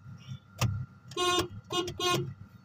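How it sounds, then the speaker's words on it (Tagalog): A manual-transmission car's horn honks several times in short bursts, fairly close, with a quiet engine idle underneath and no talking. "Check natin yung ating busina."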